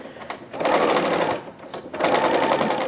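A 3-thread serger stitches around the outer edge of a fabric scrubs hat, running in two loud, rapid bursts separated by a short pause, with no talk.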